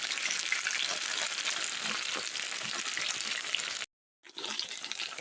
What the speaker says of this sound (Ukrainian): вони вже доволі такі підсмажені. І вже тут дуже мало рідини.